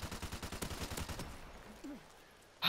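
Rapid gunfire from a Barrett sniper rifle in a Call of Duty multiplayer match, a quick run of loud, evenly spaced shots for about a second and a half, then a near-silent pause before one sharp burst at the end.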